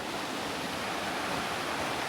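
A constant, close rush of stream water tumbling over stones at Rangpani, the flow from Meghalaya holding an even, loud texture from start to finish without any speech.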